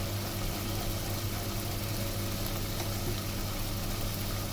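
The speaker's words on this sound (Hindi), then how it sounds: "दाल को थोड़ा सा मसाले के अंदर हम थोड़ी सी पकाएंगे इसके अंदर।" Chana dal cooks in a spiced masala, giving a steady, dense sizzle and bubbling that holds evenly with a low background rumble and no distinct stirring strokes.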